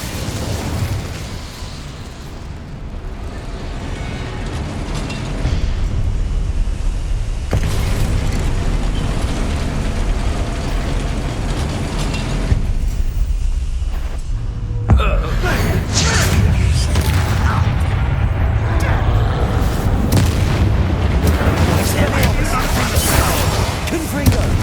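Spell explosions burst repeatedly in the Hogwarts Legacy video game on PS5, loud booms and crackling blasts layered over game music and combat noise, with a sharp new impact midway.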